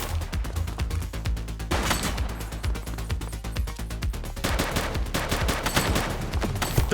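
Rapid bursts of gunfire crack out during a police chase in the video game The Precinct, dense volleys of shots running almost continuously and loudly across the whole stretch with little pause.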